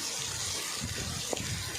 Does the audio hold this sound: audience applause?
no